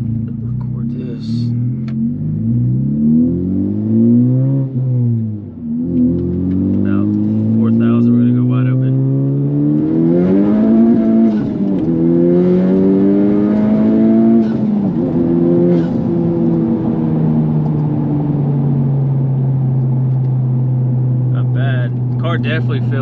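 Tuned car running on E85 fuel accelerating hard through the gears from inside the cabin, engine pitch climbing and dropping at each shift, loud and close, with occasional talk over it.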